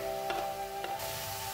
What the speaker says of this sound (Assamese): তাৰপিছত পেনটো গৰম হোৱাত গ্ৰেট কৰি লোৱা আপেলখিনি ইয়াত মই লৈ ল'লোঁ।